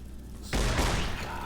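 Pulse slugs are fired in the game Fallout New Vegas, a sudden loud booming blast after a half-second lull that rolls on with a sustained rumble.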